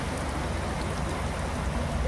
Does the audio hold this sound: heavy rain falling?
yes